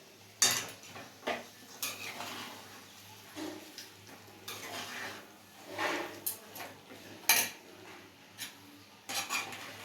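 Mutton is stirred in a pot with a metal spoon, giving scattered clanks and scrapes against the pot at an irregular pace over a quiet background, close by.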